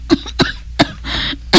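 A person coughs in a drama scene, four short, close, harsh bursts spaced roughly evenly, the third followed by a longer raspy breath.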